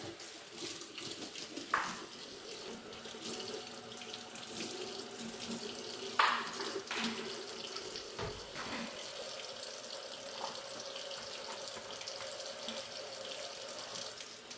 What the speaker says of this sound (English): Get hot soapy water.